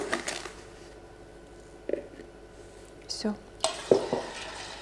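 A spoon scrapes and clinks against a metal pot of salt brine in a few scattered strokes over a faint background hiss, with quiet gaps between.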